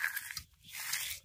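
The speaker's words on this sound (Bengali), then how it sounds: "হাত দিয়ে একটু করে মুড়লেই গুঁড়ো হয়ে যাচ্ছে পুরো" Crispy shredded potato fry (jhuri aloo bhaja) mixed with peanuts, crumbled between the fingers, giving a short burst of dry crackling crunches close up that pause briefly and then resume.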